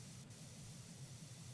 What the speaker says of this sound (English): only spray it with water